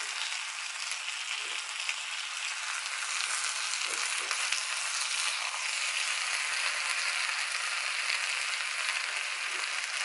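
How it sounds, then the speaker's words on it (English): Potatoes fry in a skillet, a steady close sizzle with a few soft bumps as a spatula turns them, and no one speaks. "is just go ahead and move your potatoes around. They're nice and brown."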